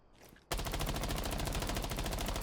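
Sustained automatic fire from an MPX submachine gun fitted with an extended barrel in Rainbow Six Siege: a fast, even rattle of close, loud shots that starts abruptly after a brief quiet moment and continues steadily.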